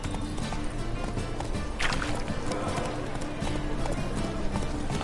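Horse hooves clip-clop steadily at a trot in The Witcher 3 game, a continuous rhythmic patter mixed with ambient game sound, with faint voice bits.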